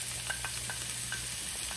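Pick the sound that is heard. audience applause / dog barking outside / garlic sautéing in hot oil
garlic sautéing in hot oil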